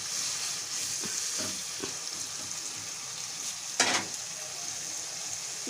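Tomato and green chillies stirred into qeema frying in a pan: a steady, close sizzle with soft scraping stir strokes and one sharper clatter of the spoon against the pan.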